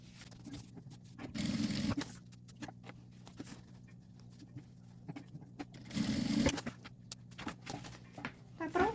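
A sewing machine stitches the edge of a mini backpack in two short bursts of whirring, close and moderate, separated by quiet handling clicks and rustles.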